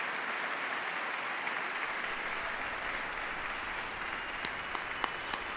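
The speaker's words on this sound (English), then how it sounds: "Joe Boehner's up there clapping about this" Audience at a State of the Union address breaks into sustained applause, a broad, even roar of many hands clapping, with a few sharp distinct claps near the end.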